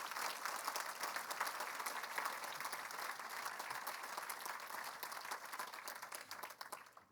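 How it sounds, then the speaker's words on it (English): Sustained applause from a sizable audience, a thick wash of clapping that holds steady for several seconds, then begins to thin and fade at the end. "I'd like everybody to give him the round of applause right now"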